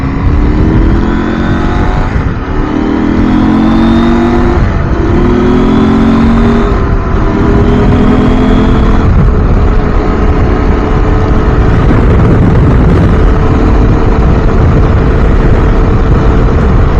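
A KTM 790 R motorcycle rides into a headwind: a loud, steady engine drone rises and falls through the gears, with constant rushing wind noise right at the rider.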